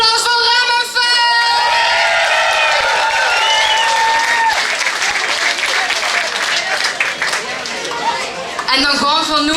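An audience at a Limburg song gala applauds a second-place song at the prize giving. Dense clapping and cheering swell across the hall while a presenter talks over it and music plays.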